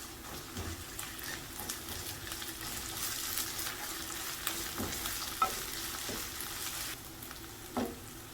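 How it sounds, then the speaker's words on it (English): Onions and vegetables stir frying for sabzi, a steady close sizzle with scraping utensil strokes and occasional clinks against the pan, without any talking. "Stir fry it too with the onions for a few minutes."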